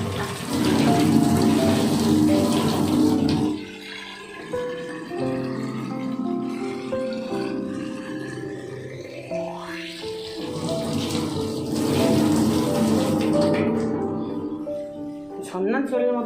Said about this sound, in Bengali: ঝর্ণার জলের মতো পড়তে থাকে